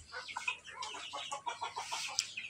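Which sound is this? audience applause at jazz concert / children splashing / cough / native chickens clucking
native chickens clucking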